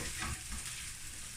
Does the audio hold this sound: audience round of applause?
no